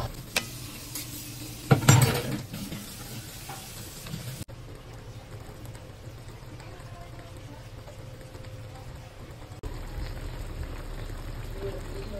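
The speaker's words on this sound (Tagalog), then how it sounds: "Gigisahin din natin siya. Hahaluin din natin ng maayos." Pork marinated in soy sauce and calamansi sautéed and stirred in a pan for pork afritada, with a burst of clattering stirring and sizzle near the start, then a low steady frying hiss.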